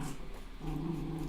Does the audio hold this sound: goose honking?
no